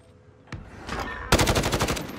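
Rapid automatic gunfire from a video game shooter: a single sharp shot, then a dense, loud burst of repeated shots in quick rhythm toward the end.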